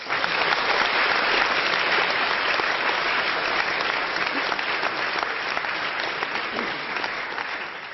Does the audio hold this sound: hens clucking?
no